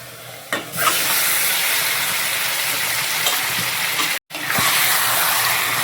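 Chicken pieces and onions frying in a pan for a spicy Kolhapuri kharda chicken, a steady loud sizzle with stirring scrapes near the start, briefly cut off before the frying resumes.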